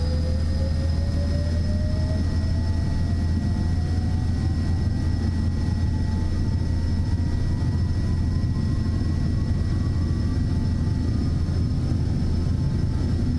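A Learjet 35A in Microsoft Flight Simulator 2024 rolls down the runway for takeoff, its jet engines producing a loud, steady roar with a rising whine climbing gradually over the run.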